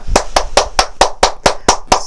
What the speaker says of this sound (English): technique number 2, which is clapping